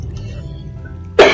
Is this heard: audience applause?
no